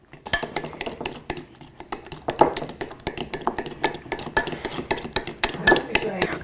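Low carb pancake batter, thick like custard, being beaten by hand in a bowl: rapid, rhythmic clinking and scraping of a utensil against the bowl, steady and close throughout with no talking.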